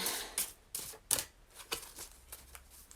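A deck of tarot cards is shuffled by hand in a quiet room, soft papery riffles and taps arriving in uneven bursts, close and fairly faint.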